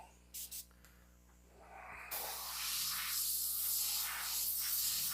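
After a couple of brief puffs, an airbrush starts spraying paint in a steady, close, airy hiss that keeps going to the end.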